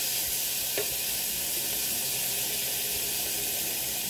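Pork steak stir-frying in butter in a pan gives a steady, faint sizzle with a soft hiss and no voices.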